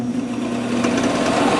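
A small lathe fitted with a homemade quarter-inch CCMT09T304 insert cutter runs and cuts with a steady, close mechanical hum and faint whirring overtones, with no talking.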